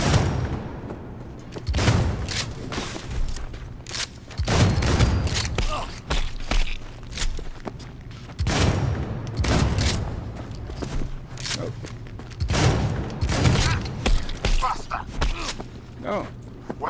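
Shotgun fire in the video game Cyberpunk 2077, set in Night City: heavy blasts boom every few seconds with footsteps and thuds between them, while a player talks throughout.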